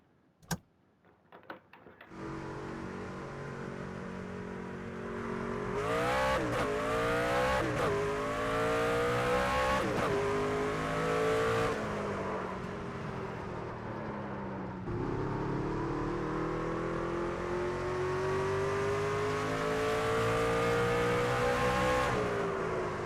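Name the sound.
truck racing at Martinsville in the NASCAR 25 video game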